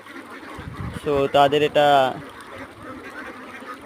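A flock of around 1,300 ducks on a farm crowds together in the cold, breaking into a burst of loud nasal quacking that rises over someone talking nearby, then fades back under his voice.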